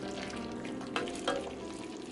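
Pork and chicken adobo in soy and oyster sauce frying in a pan, with steady close sizzling and a couple of scraping stirs of a utensil against the pan.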